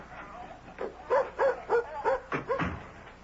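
A dog barks in a radio drama, a run of about seven short yapping barks in quick succession, fairly close and alone against a quiet backdrop.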